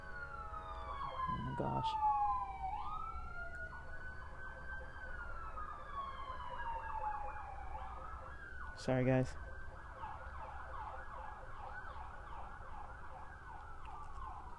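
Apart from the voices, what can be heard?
emergency vehicle sirens passing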